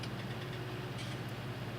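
A tractor engine in Farming Simulator 19 idles with a steady, low, even rumble and a faint ticking, holding constant with no talk.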